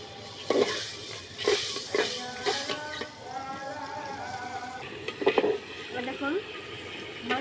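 Chicken skin pieces fry in a pan while being stirred, with intermittent spoon scrapes and clatters over a soft sizzle, occasional voices audible in the background.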